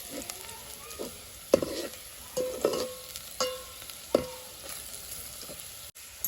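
Chillies and spice masala fry in oil for a samosa filling, a soft steady sizzle broken by several stirring scrapes and clinks of a spoon against the pan.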